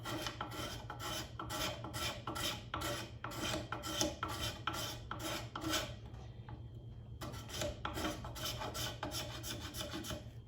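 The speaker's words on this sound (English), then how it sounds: "I'll stand up here and scrape this down" A scraper is drawn repeatedly down a wooden bow handle, giving steady rhythmic rasping strokes, close and fairly loud, with a brief pause midway before the strokes resume.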